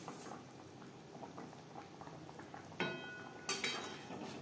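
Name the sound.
fish curry gravy boiling in a pan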